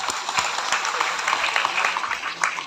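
At a political rally, a crowd claps steadily, a dense patter of many hands at moderate volume with a few sharper claps standing out, lasting a few seconds.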